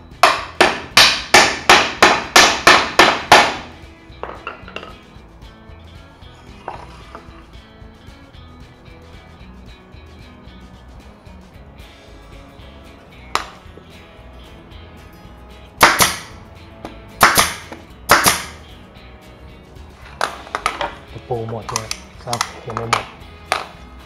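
A hammer pounds a nail into hard wood: a quick run of sharp strikes, a quiet pause, then more scattered, irregular blows.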